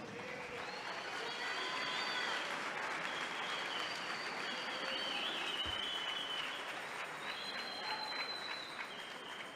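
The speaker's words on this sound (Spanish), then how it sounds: "Dale una ofrenda de palmas a Jesús." A church congregation claps as an offering of applause to Jesus, a sustained, fairly distant wash of many hands with faint cheering mixed in, steady from start to finish.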